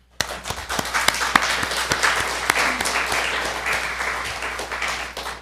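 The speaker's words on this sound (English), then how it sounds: "so give yourselves a round of applause." Audience applause at a Scout troop ceremony starts suddenly and holds as a dense, steady clapping from many hands in a room, with a few louder single claps on top.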